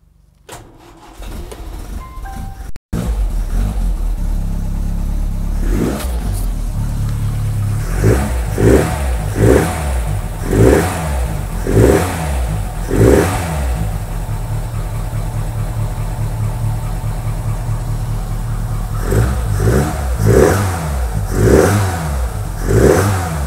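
A cold Lotus Elan twin cam engine cranks and catches, then settles into a loud close idle broken by a string of sharp throttle blips, with more revving near the end.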